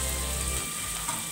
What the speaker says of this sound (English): Add in our onion and let them cook for a while.